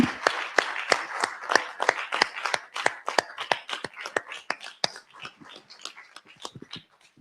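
Audience applause at a psychology talk about the Milano-Cortina Olympics: crisp, separate hand claps in a steady patter that thins and softens toward the end.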